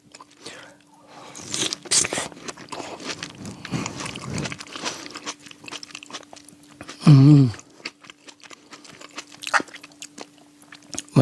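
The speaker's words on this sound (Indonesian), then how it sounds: "Kita makan dulu." Someone eats and chews food close to the microphone, with crunchy bites and wet chewing at irregular intervals. A short louder burst comes midway, and faint background noise runs underneath.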